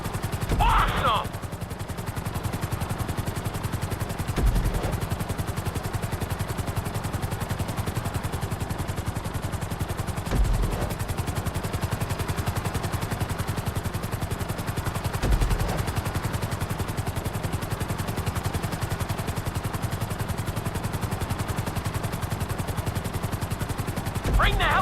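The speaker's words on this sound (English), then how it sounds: "Bring the helicopter down gently onto the helipad." A helicopter's steady rotor drone in GTA V flight school fills the scene, with short bursts of gunfire-like cracks every few seconds.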